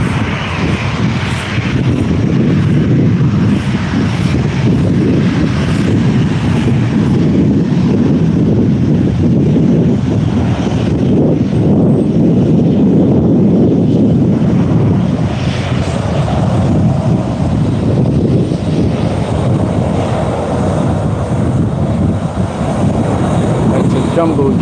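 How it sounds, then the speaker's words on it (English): A jumbo jet airplane roars loudly during takeoff, a sustained, powerful engine rush that swells and holds for over twenty seconds with wind buffeting the microphone. "these flights taking off and landing. There's one that's about to take off."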